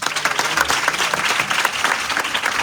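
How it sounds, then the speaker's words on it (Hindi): Sustained applause from a church congregation at a live Christian worship service in Lahore, dense and steady for the whole stretch with no break. "आप अपने लिए तालियां बजाइए"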